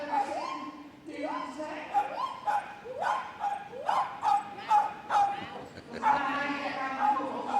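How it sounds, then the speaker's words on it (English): A miniature American Shepherd barks steadily through an agility run at Crufts, a rapid series of sharp, high yips and barks close by, heard under a commentator's voice. "nicknamed the Fiery One, and barks her way round. Does Fiametta."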